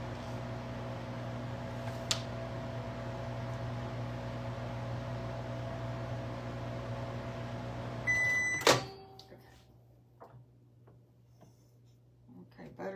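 A household microwave oven rated 600 to 1200 watts runs with a steady tonal hum and fan whir for about eight seconds, then stops with a sharp clunk and beep, leaving a quiet room.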